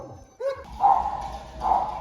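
Dogs at a mountain home give a short yelp followed by two drawn-out, whining barks spaced about a second apart, fairly close and moderately loud.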